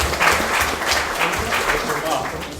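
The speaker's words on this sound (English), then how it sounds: "So let's give a round of applause for Josh." Applause from a crowd fills the space, a dense, fairly loud wash of many hands clapping that holds steady throughout.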